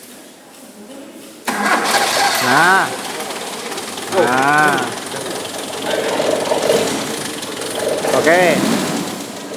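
A car engine is cranked with the starter during automotive practice, whirring in repeated bursts that rise and fall several times at close range, with a few short spoken words from people nearby.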